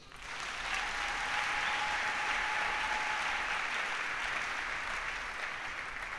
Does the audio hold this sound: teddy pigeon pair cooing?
no